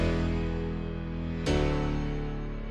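Reversed bounce of a layered grand piano and Korg M1 house piano, swelling up into a sharp cutoff midway before the chord carries on, a sucking push-pull effect heard alone.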